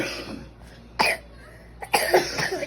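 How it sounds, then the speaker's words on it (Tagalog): A few separate coughs sound out, one short then a pair close together, over a quiet background. "may mga background ubo"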